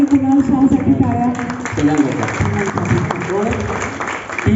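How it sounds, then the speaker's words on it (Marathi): Applause rises from the crowd at a Ganesh Festival gathering marking 25 years of New Ajanta Avenue in Pune, a scattered clapping texture sitting beneath voices and other sound that dominate the mix. "अश्विन रानडे आणि कुणाल शहासाठी टाळ्या"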